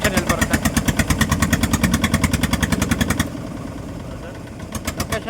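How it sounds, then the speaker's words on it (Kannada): A motorboat engine chugs in a rapid, steady pulse during a backwater boat ride through mangroves on the Sharavathi near Honnavar. It runs loud and close, then cuts out near the end with a few brief pulses afterward. "ಸ್ವಲ್ಪ ಬೋಟ್ ಸೌಂಡೆಲ್ಲ ಜಾಸ್ತಿ ಕೇಳಿಸ್ತಾ ಇದೆ"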